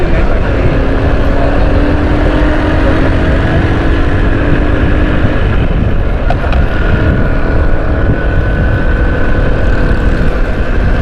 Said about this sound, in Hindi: भगा रहा हूँ भाई मैं मोटरसाइकिल।